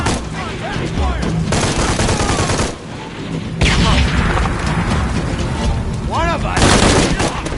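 Heavy sustained gunfire in Shadow of the Tomb Raider, a dense automatic volley that fills the scene with rapid loud bursts and booms, pausing briefly before resuming, while a voice speaks briefly over it.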